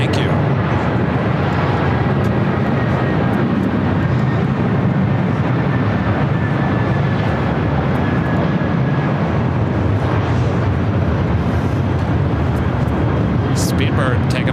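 A British Airways jet airliner takes off from the south side at LAX, a broad, sustained engine roar filling the air, with people talking over it.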